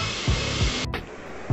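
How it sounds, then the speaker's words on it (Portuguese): A large-format printer runs at a print trade fair, producing a loud, dense mechanical whir with rhythmic low thumps as the print head sweeps back and forth. "A máquina imprimindo, olha o tamanho da impressora."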